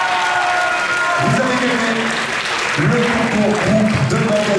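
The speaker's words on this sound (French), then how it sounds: "Applaudissements, s'il vous plaît!" Audience applause at the award ceremony of a cosplay group contest at a manga convention, steady clapping from a crowd with someone speaking over it.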